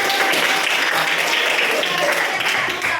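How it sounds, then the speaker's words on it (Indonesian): A school class claps hands in a civics lesson, a dense, steady wash of many hands clapping together at moderate loudness, continuous for the full stretch with some voices mixed in. "Iya, tepuk tangan dulu."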